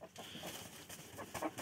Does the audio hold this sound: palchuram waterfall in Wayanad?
no